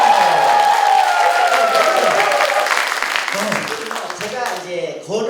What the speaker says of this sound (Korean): 박수 한번 나와야 돼요.